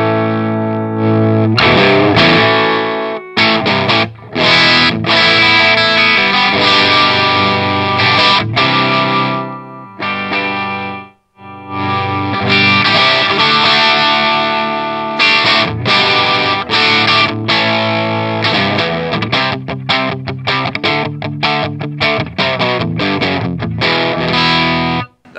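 Electric guitar through a Line 6 POD HD500X modelling the bright channel of a 1965 Marshall JTM45, giving a crunchy, overdriven tone as loud strummed chords and riffs play on with short gaps and no voices.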